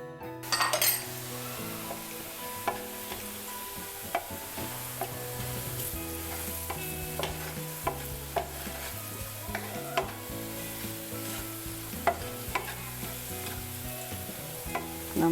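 Onions fry with garam masala in a pan while being stirred, a soft steady sizzle punctuated by repeated sharp clinks and scrapes of a utensil against the metal, close and alone without talk.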